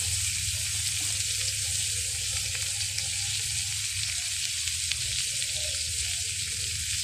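Ground turmeric and spices sizzle hard in oil in a pan where silver carp with cauliflower is cooking. The frying hiss is loud and steady throughout, with faint stirring and no voice.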